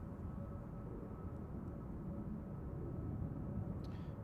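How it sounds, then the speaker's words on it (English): Steady low broadband roar of a Lufthansa City Airbus A320neo at Manchester Airport, a continuous rumble holding at moderate level from a distance with no talk over it. "Lufthansa City 2507 nach München to Munich, the AIJR A320 Neo."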